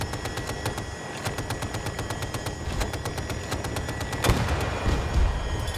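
In Battlefield 2042, rapid machine-gun fire rattles continuously, then a recoilless M5 rocket strikes a helicopter with a sharp, heavy boom near the end, followed by more shooting.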